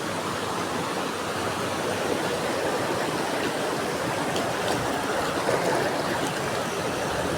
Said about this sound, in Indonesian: Ini ada air terjun kecil lagi.